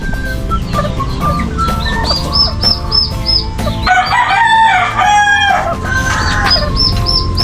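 Pet native chickens cluck and a rooster crows repeatedly, loud and close, with overlapping calls and chirps and no talking.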